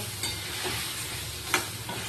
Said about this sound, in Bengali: আলুটা দিয়ে মশলাটা দিয়ে ভালো করে নেড়ে চেড়ে কষাচ্ছি